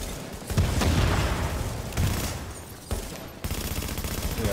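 Rapid video game gunfire, bursts of automatic shots and single cracks with a booming edge, loud and close, continuing through the whole stretch with no talking over it.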